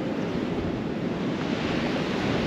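Ocean surf rolling onto a long natural sandy beach in Bangladesh with a storm approaching, a dense, steady roar of breaking waves mixed with wind buffeting the microphone.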